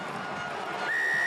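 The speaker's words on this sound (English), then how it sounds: "The whistle's gone." A referee's whistle at a Top 14 rugby match between RC Toulonnais and Castres Olympique cuts in near the end as a sustained shrill tone above steady crowd noise in the stadium.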